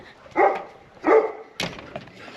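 Pet dogs barking and whimpering at home, three short bursts spaced about a half-second apart, fairly close, with a whiny yip trailing off at the end.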